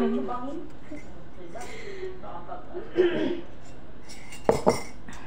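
Dishes, pots and cutlery clinking in a home kitchen sink as a pile of washing-up is tackled, soft scattered clatter with a couple of sharper clinks, while someone talks and chuckles over it.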